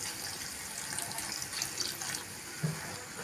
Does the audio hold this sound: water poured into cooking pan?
yes